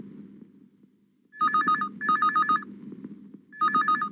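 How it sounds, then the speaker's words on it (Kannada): A telephone rings in short electronic trilling bursts, three clear rings over a low background hum, loud and close with no talk. "ರಿಂಗ್ ಆಗ್ತಾ ಇದೆ"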